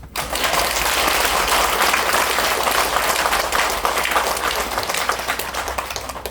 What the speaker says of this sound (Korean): 여러분들이 힘찬 격려의 박수와 함께.